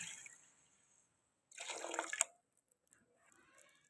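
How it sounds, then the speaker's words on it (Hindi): A short splash of water poured into a pot of mutton nehari, about a second long, amid otherwise quiet kitchen background. "अब थोड़ा सा हम इसमें पानी ऐड करेंगे जी।"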